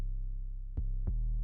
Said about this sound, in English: The first 808 sounds a bit like this